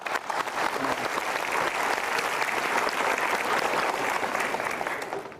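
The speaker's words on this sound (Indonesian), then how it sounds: "Berikan tepuk tangan sekali lagi." Sustained clapping from a studio audience at an Indonesian talk show, thick and continuous, swelling slightly early on and holding steady before tapering at the very end.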